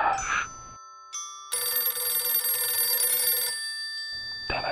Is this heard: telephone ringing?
yes